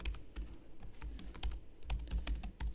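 Rapid, continuous typing on a computer keyboard while programming, with crisp close key clicks in an uneven rhythm and no voices.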